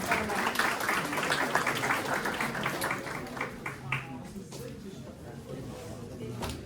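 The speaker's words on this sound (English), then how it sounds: "Let's have one more round of applause, please, for both of our performers." Scattered audience applause at an iftar Ramadan dinner with a Turkish community, faint clapping from many hands in a large room with voices murmuring underneath, fading toward the end.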